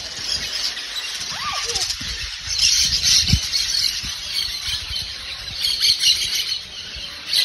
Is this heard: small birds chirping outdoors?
yes